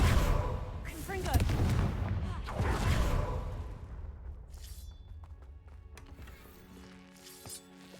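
A Confringo fire spell detonates in a Harry Potter video game, heavy booming blasts and thuds in quick succession, loud and close, then tailing off into quieter clatter and ambience.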